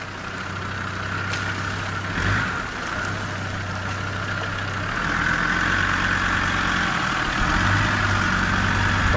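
A Land Rover Discovery engine drones steadily as the vehicle pushes through a deep, reedy swamp puddle, a loud continuous low hum with a faint rumbling hiss of water and growing intensity toward the end.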